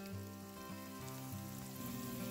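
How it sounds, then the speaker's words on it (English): Onions sauté in leftover shrimp and bacon grease, giving a faint, continuous close sizzle with soft crackling and no talk. "The leftover grease, I am going to saute these onions."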